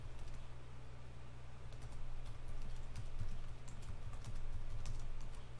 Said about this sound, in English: typing in Sword Beach